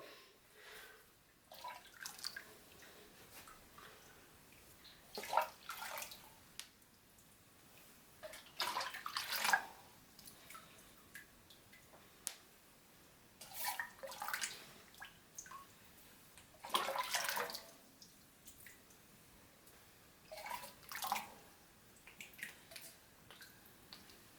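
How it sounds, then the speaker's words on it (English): Water poured onto a beer mash grain bed during sparging in a BrewTaurus brewhouse, heard as repeated splashy pours and trickles in bursts spaced a few seconds apart, close and moderately loud with quiet gaps between. "I just let the grain bed almost fall dry and then I add more water."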